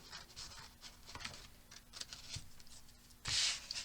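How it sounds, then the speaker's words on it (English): Paper flap being cut away along the score line for a folder album, a series of soft, quiet snips and rustles, ending in a louder crisp cut. "You're going to angle cut and cut off this flap because you don't need it, and cut away the score line"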